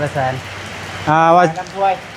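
Rain falling steadily, a constant hiss beneath a person speaking loudly over it throughout.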